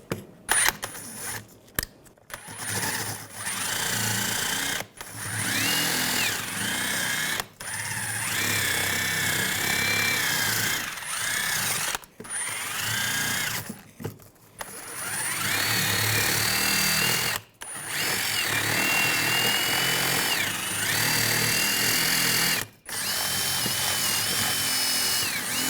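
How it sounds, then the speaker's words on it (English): A wire brush scrubbing corrosion off a rear brake caliper bracket on a 2009-2017 Volkswagen Tiguan, with loud abrasive whirring bursts repeated in several runs and separated by short pauses. "I'm just going to use a wire brush."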